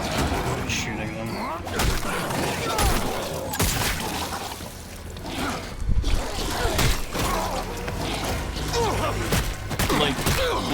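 Enemies gunned down in The Callisto Protocol, a dense, continuous barrage of game gunfire, impacts and mechanical clatter, loud and close with brief heavier bursts throughout.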